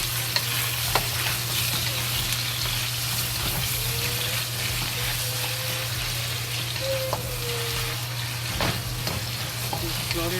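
Pork ribs fry slowly in oil over low to medium heat for sweet and sour Chinese ribs, giving a steady, even sizzle throughout with a faint constant hum and occasional soft clicks.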